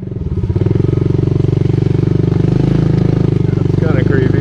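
An off-road dirt motorcycle in a remote mountain forest throbs loudly and close at steady revs, its engine pulsing in a fast, even rhythm throughout.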